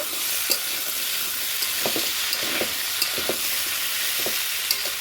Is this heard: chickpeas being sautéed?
yes